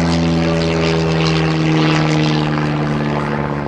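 An aerobatic propeller airplane performing loops and snap rolls at the 2010 New Garden Airshow, its engine a loud, continuous, close droning roar with a slight swell midway.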